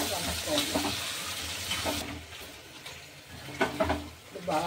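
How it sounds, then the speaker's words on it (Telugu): Chicken pieces sizzle in hot oil in a pan for jeera chicken fry, with a close, steady hiss and occasional stirring scrapes, faint talk in the background. "ఇప్పుడు చికెన్ వేస్తున్నాం. చికెన్ వేసాక బాగా"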